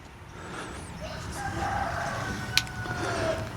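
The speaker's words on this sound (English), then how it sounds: "There's our two broody hens." Broody hens in a backyard coop with turkey eggs under them give soft, intermittent fowl vocalizations over steady outdoor background noise, with one sharp brief click partway through.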